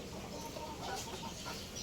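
Faint clucking from fighting roosters in a noisy outdoor setting, with soft, scattered calls beneath a steady hiss of background noise.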